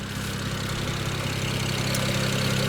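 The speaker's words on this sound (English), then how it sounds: "Now the engine with the hood closed sounds okay." A 2007 BMW 335i M-Sport with the twin-turbo engine idles with the hood closed, giving a steady low, even hum that stays constant and close throughout.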